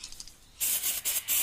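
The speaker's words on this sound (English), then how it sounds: "Just take the brake cleaner, give it a nice spray," Brake cleaner hisses from an aerosol can onto a bicycle disc brake rotor in three close, loud bursts of spray with brief pauses between them.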